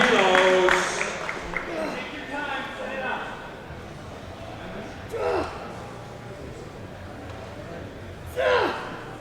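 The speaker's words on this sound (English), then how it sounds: "And you can hear the crowd get excited for a world record attempt." Crowd at a world classic powerlifting championship reacting to a world record attempt in the men's 59–66 kg class, with excited gasps and murmurs swelling in short bursts, mixed with commentary talk throughout.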